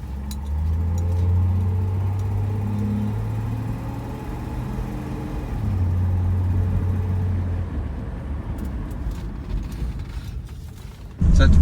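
An early Ford Falcon on its first test drive after new drum brake wheel cylinders and brake lines were fitted: a low engine drone with creaks and mechanical rattles from the car, ending in a sudden loud thump.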